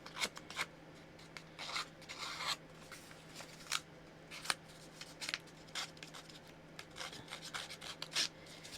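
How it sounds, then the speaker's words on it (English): A hair trimming tool with a razor blade inside scraping along paper edges in short, repeated rasping strokes, close but fairly quiet, with uneven rhythm over a faint steady hum. "So again, this is a hair trimming tool. It's got the razor blade on the inside."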